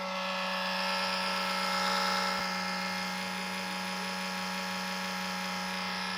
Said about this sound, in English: that horrible noise is from a fan that sits right up under here